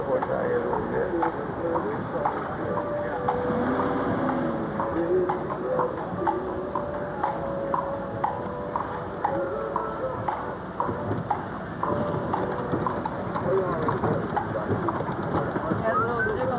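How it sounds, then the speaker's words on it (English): Horse hooves clip-clop on a cobblestone street as the horse is led out, a steady close rhythm continuing throughout under people talking. "Okay, take the horse out here a little bit."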